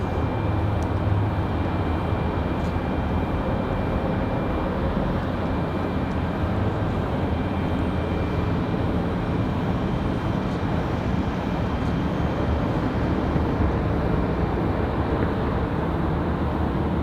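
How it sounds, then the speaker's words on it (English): A turboprop airliner in blue livery lands at Raleigh-Durham International Airport, its engines giving a steady, loud broadband roar with a low drone that holds throughout, with no talk. "Here's our turboprop. Just flew in."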